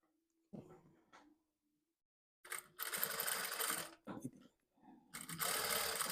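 A sewing machine stitches a blouse, running in several bursts of rapid, buzzing stitching with brief pauses and a few soft handling sounds, close and fairly quiet.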